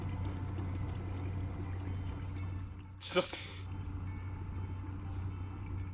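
A short burst of splashing water in the video game Prey rises briefly over a low steady hum while someone talks over it.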